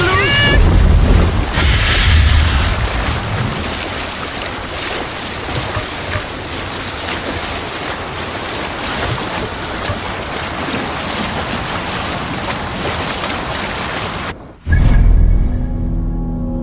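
Viking longship sailing on the open ocean in Assassin's Creed Valhalla, a loud steady wash of waves and wind with faint game voices in the background, broken by a brief cut near the end before the sea sound resumes.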